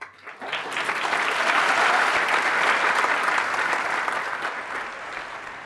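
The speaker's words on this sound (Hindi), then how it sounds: "अब जब मैंने ये बोला, आपने तालियां बजाई," Audience applause at a Hindi motivational business talk, a dense steady clapping that swells quickly, holds loud for several seconds and then slowly eases off, with no voices over it.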